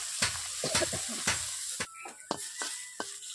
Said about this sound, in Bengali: কেমনভাবে আমি বসিয়ে বসিয়ে ভাজছি